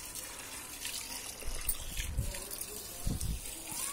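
Water splashes and gushes while summer garden plants under a shade net are watered, a moderate, uneven pour with a few louder bursts and a person speaking briefly.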